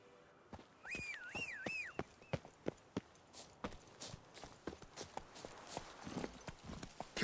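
Roach the horse's hooves clip-clopping in The Witcher 3, a steady walking rhythm of distinct hoofbeats on hard ground, moderately close, with a brief whistled melody early on and no talk.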